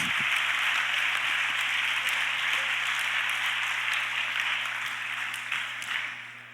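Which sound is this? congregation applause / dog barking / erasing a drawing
congregation applause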